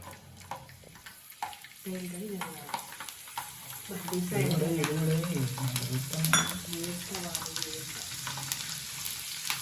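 Garlic hissing and crackling in hot oil with stirring, while a voice talks over the sizzle through much of the clip.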